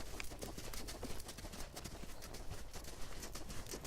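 A horse's hooves clip-clop at a lope on soft ground during a groundwork and retraining session, a quiet, steady rhythmic drumming with light, evenly spaced footfalls throughout.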